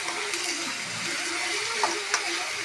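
Onion, ginger, green chilli, curry leaves and garlic sauté in hot oil for an egg curry, giving a steady, close broadband sizzle with a couple of faint clicks and no talking.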